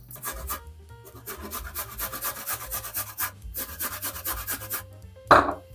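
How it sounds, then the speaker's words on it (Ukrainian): Half a garlic clove rubbed on a fine grater for mushroom cream soup, producing a run of quick, close rasping strokes in bursts, ending with a sharp knock. "І зараз половинку буквально зубочка потремо на дрібну тертку."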